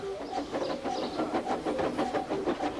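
A steam train pulls away, puffing in a quick rhythmic chuff with a short whistle-like tone, moderately close and fading slightly, alone without talk.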